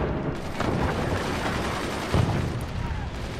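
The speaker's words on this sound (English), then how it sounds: "We got a mortar." Mortar fire in the artillery building game Forts, a steady roar of rumbling bursts with a heavier thump near the end, heavy and sustained throughout.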